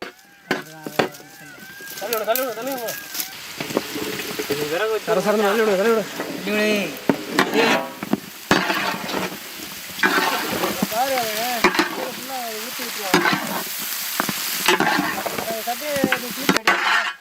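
Big chicken pieces fry in a pan with bell peppers and chopped garlic, sizzling loudly while being stirred with repeated scraping and clanking, and people talk over the cooking.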